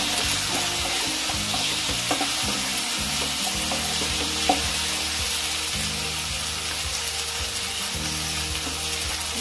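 Ginger and garlic paste fries in oil for a Bengali bhetki fish curry, a loud continuous sizzle with a repeated mechanical ratcheting clatter running underneath throughout.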